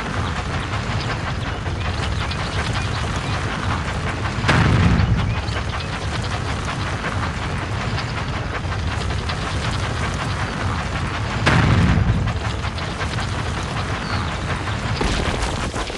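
Rolling boulder in a Thomas & Friends railway video game, a continuous low rumbling bed broken by two heavy booming thuds a few seconds apart, loud and close with no talk.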